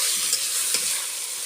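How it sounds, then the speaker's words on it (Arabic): Meat sizzling and frying with onion and spices in a hot pan, a steady loud hiss with faint stirring scrapes, no voices. "انا بحب اشوح اللحمه كده الاول مع البصله مع البهارات"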